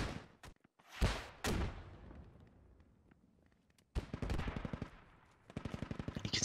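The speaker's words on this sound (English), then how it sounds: "You can still hear the shots to the north. That NSVT is not giving up." Heavy NSVT machine gun fire in the video game Squad: a few scattered single shots, then two stretches of rapid, evenly spaced bursts, moderately loud and slightly distant, with reverberant tails between them.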